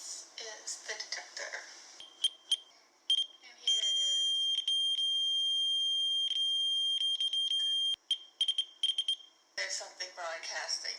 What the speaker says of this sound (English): Heather uses a transmission detector that makes a noise when it picks up on a frequency